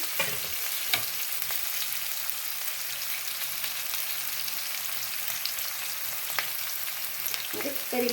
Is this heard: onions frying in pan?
yes